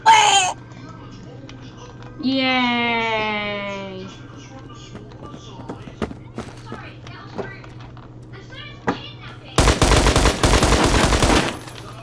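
Video game gunfire crackles in a dense automatic burst near the end, after scattered single shots, with players talking and a high, wailing voice earlier.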